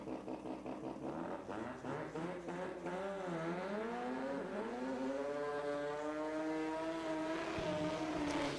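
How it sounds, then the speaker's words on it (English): A 1972 Datsun drag car performs a burnout at a drag racing event, its engine revving hard and rising in pitch with sweeping harmonics, loud and sustained, heard from some distance. "As Luis Soto finishing off the burnout there on the man out of Puerto Rico in the 72 Datsun"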